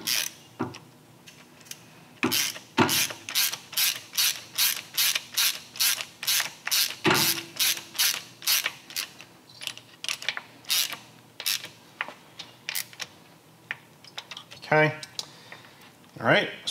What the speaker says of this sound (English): get the nut reinstalled back on there